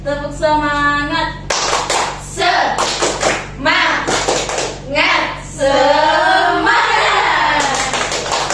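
Group in a counseling session performing a rhythmic clap chant: voices call out, followed by repeated sharp bursts of close, loud synchronized hand claps and slaps, alternating with group speech.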